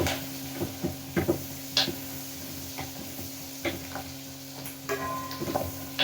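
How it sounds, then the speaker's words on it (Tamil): Frying in sesame oil for a tamarind curry, a quiet bed of sizzling with scattered crackles and pops spread across the whole stretch. "நல்லா ஃப்ரை ஆகுதுங்க"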